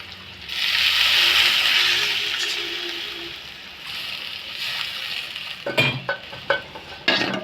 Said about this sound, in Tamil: வெங்காயம் போட்டு வதக்கிட்டுருக்கேன்